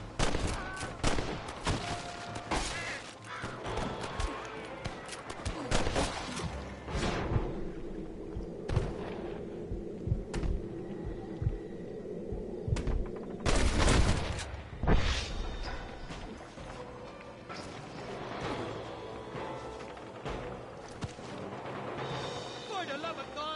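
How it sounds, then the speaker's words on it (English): Enemy gunfire from above a cliff in Red Dead Redemption, with repeated sharp shots and volleys at varied distances, some very close and loud, mixed with shouting voices throughout. "Once you top that cliff, they're shooting down on us!"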